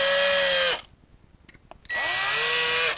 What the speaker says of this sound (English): I will drill a couple of small pilot holes